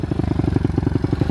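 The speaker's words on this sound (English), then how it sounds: "pit bike's running good" A pit bike's small motorcycle engine runs steadily nearby, its loud, even exhaust pulses thumping in a fast regular rhythm with light mechanical clatter.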